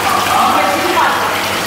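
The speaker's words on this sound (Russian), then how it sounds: "Вот такой вот водопадик." A small decorative waterfall at a hotel reception desk in Vietnam, with fish in it, gives a steady, close rush of falling water, continuous and even throughout.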